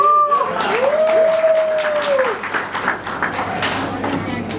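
An audience at a live company speech in Ahmedabad claps, a sparse, moderate round of applause that starts under a sustained voice and thins out toward the end.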